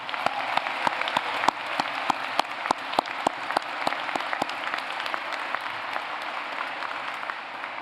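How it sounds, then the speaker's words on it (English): A graduation audience applauding the class of 2023 at a Harvard public health school ceremony, a steady wash of clapping from a large crowd with sharp individual claps standing out, sustained for several seconds. "please, let's give a round of applause to the class of 2023 of this marvelous school"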